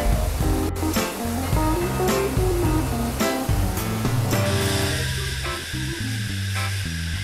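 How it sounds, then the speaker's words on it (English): TranzAlpine train wash system spraying medium-pressure recycled water over carriages and the concertinas between them, a steady dense hiss of spray with low mechanical rumble throughout, loud and continuous without pause. "Medium-pressure recycled water addresses complex shapes and concertinas between carriages"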